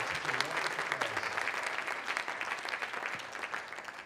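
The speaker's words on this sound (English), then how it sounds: "Maybe a round of applause and a thank you for such a wonderful meal." Sustained applause from a conference audience after a dinner, a dense steady wash of many hands clapping at even loudness throughout, with faint voices mixed in underneath.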